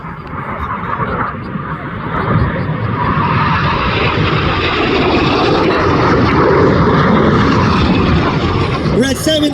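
RAF Red Arrows display jets roaring overhead at an air festival display in Ragley Hall grounds, a loud, sustained broadband rush that swells and holds steady throughout, with a faint voice commentary beneath.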